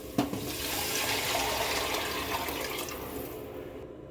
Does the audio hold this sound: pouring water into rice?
yes